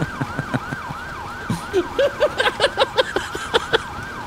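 A wailing police siren in a GTA 5 roleplay game rises and falls in a steady repeating cycle at moderate distance, with short clicks and blips from the game sounding over it.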